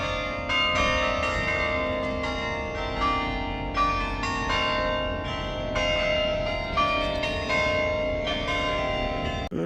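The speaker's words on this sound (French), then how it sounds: "T'aimes bien le carillon mon chien?" Church carillon bells ring continuously in a town in northern France, a steady cascade of overlapping bright tones with new strikes arriving every second or so, loud and close with a rich lingering hum.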